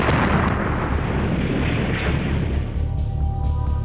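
A car packed with an IED is blown up in a controlled blast in Pulwama, producing a loud, sustained roar of rumbling noise that slowly fades into a softer, ringing tail.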